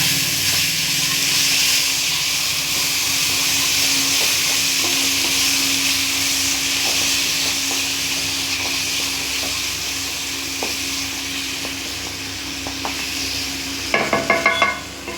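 Green peas fry in a pan with a steady broad sizzle and hiss throughout, soft and even, with a cluster of clattering stirring knocks near the end.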